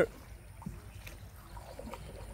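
A rope-pulled wooden boat crosses a swift river, with soft, uneven water lapping and sloshing against the hull and a low, muffled rumble throughout.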